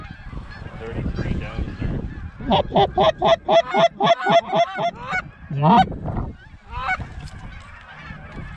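Canada geese honking loudly in a rapid, rhythmic run during a goose hunt, calls close and clustered mid-clip, with a hunter speaking briefly before and after.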